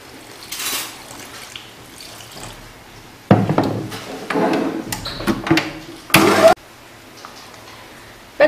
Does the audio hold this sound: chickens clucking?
no